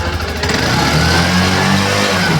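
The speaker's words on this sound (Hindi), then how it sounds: "अब इंजन की आवाज़ सुनते हैं, इंजन का साउंड बंद हुआ है कि नहीं हुआ" A TVS Sport BS6 motorcycle engine runs steadily after repair, a close, loud, even mid-pitched hum with a slight rev, heard alone without talk.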